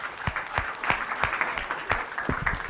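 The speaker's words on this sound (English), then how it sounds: "A big round of applause before I release." Audience at an agriculture value chain workshop applauding, a steady patter of clapping that is moderately loud and continuous, with a few sharper individual claps standing out.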